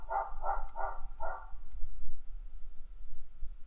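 A guard dog kept in a kennel at night at an abandoned special-weapons depot barks four times in quick succession, fairly near and loud, then falls silent over steady low background noise.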